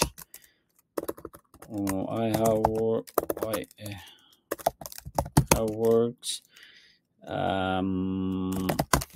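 Clicky keystrokes on a computer keyboard come in quick bursts and short pauses, with someone talking over much of the typing.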